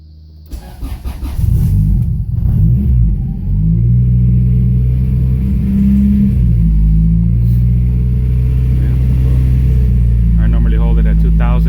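An F20B engine fitted with a Brough Performance H2B kit is started, then held at steady raised revs with the throttle down. Its deep, loud, even drone continues for about ten seconds, and a person talks over it near the end.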